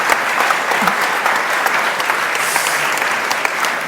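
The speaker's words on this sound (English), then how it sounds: "May I have a warm applause for my resilient panel?" Steady applause from a large conference audience for a panel, dense clapping sustained at an even level throughout.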